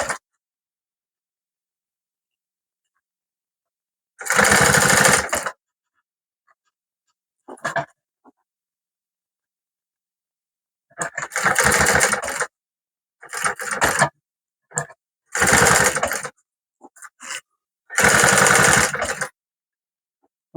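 Sewing machine stitching fabric for a bag, loud close bursts of rapid whirring, several runs of one to two seconds separated by silences and brief clicks.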